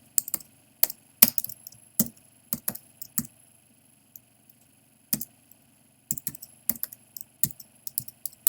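Crisp clicks of a computer keyboard, typed in short irregular bursts with brief pauses between them, close and fairly quiet.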